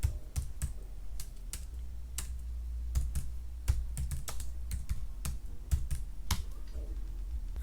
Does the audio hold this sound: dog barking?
no